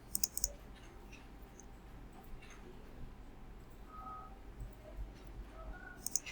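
A computer mouse clicks a few times in a quiet room, sharp short taps at the start and again at the end with soft hiss between them.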